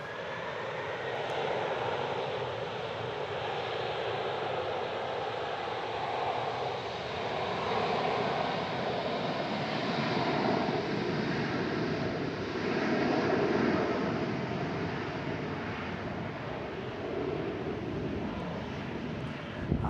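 A JetBlue airliner passes at San Francisco airport, its engines giving a steady broad roar with faint wind buffeting, holding level for twenty seconds without speech.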